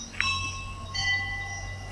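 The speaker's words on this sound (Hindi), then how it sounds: "बज गई घंटी।" A bell rings twice: a bright, ringing strike sounds, then a second softer one follows a moment later. Both tones linger over a low, steady background hum.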